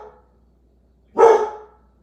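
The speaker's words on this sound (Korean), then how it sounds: "그냥 허공에 대고 지금 아무도 없는데 짖고 있거든요." A pet dog indoors barking at nothing, one loud, close single bark after a moment of silence.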